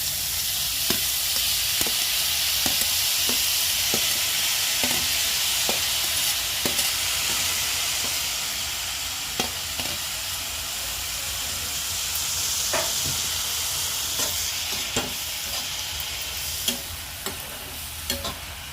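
Onions and beetroot fry in a pan with a steady, loud sizzling hiss, broken by regular scraping clicks of a spoon stirring, close and continuous with no talk.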